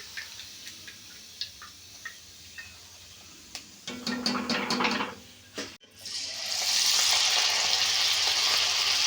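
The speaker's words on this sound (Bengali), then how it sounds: "আর কি দারুণ তেলের উপর দিলে এইভাবে সঙ্গে সঙ্গে ফুটে যাচ্ছে দেখুন।" Rice puffing in hot oil for chal bhaja: scattered light ticks at first, then a burst of crackling, and after a brief pause a loud, steady sizzle fills the kitchen close up.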